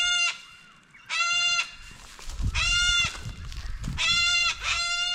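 Loud, harsh screeching calls from corellas in the New South Wales mallee outback, several piercing shrieks in bursts with short gaps, close by, over faint rustling and footsteps.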